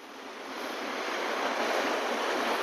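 Sea waves break at Seethapalem Beach in Andhra Pradesh, a broad, steady roar of surf swelling slightly louder, mixed with wind rush and no voices.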